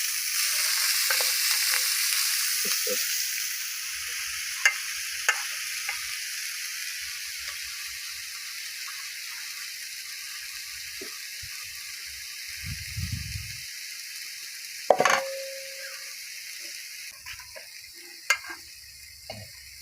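Chopped greens sizzle and fry in a hot pan, a steady hiss throughout with scattered stirring scrapes and a sharper clatter partway through, no voices.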